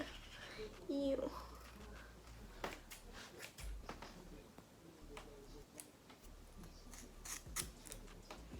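Scissors snipping split ends off long hair, a few faint, close crisp snips scattered among soft rustling, with a person talking quietly.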